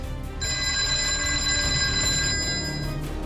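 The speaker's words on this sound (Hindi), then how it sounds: "अचानक फोन की घंटी बजने लगी।" A telephone bell rings steadily for nearly three seconds in a police control room in Ahmedabad, a bright, sustained ring heard alone over a low background hum.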